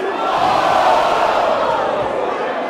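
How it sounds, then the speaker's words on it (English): A sold-out wrestling crowd at the Longboat Hall erupts after a hard chop exchange, a loud, sustained roar of cheers and shouts filling the hall before easing slightly at the end. "The crowd here at the Longboat Hall, sold out, erupts with a massive"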